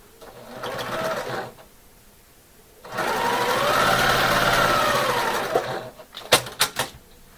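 A sewing machine stitches the corner of a patriotic quilt block in two short runs of rapid, steady whirring, separated by a quiet pause and followed by a few sharp clicks.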